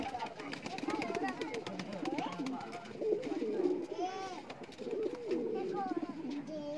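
A pigeon coos repeatedly at close range in a rhythmic, warbling pattern, with someone talking over it throughout.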